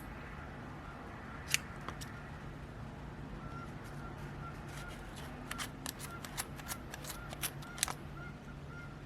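Scissors snipping through yarn strands for crochet poncho tassels, a few quiet, close, crisp cuts that cluster into a quick series near the end, over low room noise.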